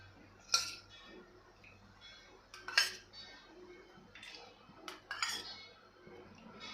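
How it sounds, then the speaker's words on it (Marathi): A steel spoon clinks against a small steel bowl while ghee is scooped in, with four sharp metallic taps spaced a second or two apart over quiet soft scraping, close by and alone. "इथे मी वाटी घेतलेली आहे त्यामध्ये आपल्याला चार चमचे साजूक तूप घालून घ्यायचं आहे"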